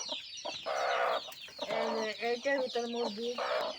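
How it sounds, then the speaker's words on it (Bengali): Chickens squawk and cluck excitedly inside a cardboard carton, a muffled, boxed-in, steady agitated chorus of harsh calls close by. "কার্টনের ভিতরে মুরগি মুরগিরা কী চেঁচামেচি করে দেখুন"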